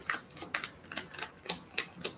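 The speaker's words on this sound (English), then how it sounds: "I don't know if I can shuffle with these gloves on, but I'm gonna try it" Tarot cards shuffled by hands wearing gloves, a quiet run of soft papery riffles and taps repeating roughly every quarter second, faint and close with no talking.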